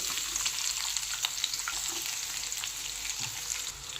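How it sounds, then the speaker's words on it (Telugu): Sliced onions frying in a pan with dried red chilli and curry leaves, a steady close sizzle and crackle running throughout with light stirring scrapes. "ఆనియన్ గోల్డెన్ బ్రౌన్ కలర్ వచ్చేంత వరకు ఫ్రై చేసుకుందాం"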